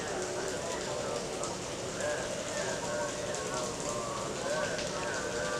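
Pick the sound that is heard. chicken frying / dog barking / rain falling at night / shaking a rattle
rain falling at night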